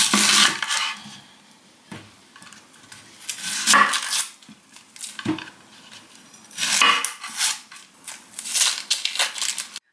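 Half an onion is sliced into thin strips with a knife on a wooden board, close and crisp, with bursts of quick cuts separated by short pauses.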